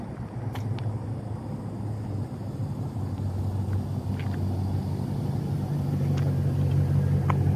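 A Dodge Challenger drives off with a steady low engine rumble building slightly toward the end, at moderate distance, with no talk.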